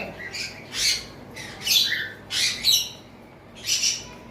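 Creamino Fischer's lovebirds squawk from a cage in five harsh, close bursts spaced about a second apart, with no voices.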